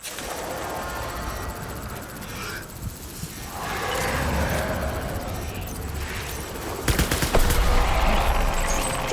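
Rapid bursts of gunfire in the video game Death Stranding crackle as dense, loud volleys over a continuous rumble, rising to a harder flurry toward the end.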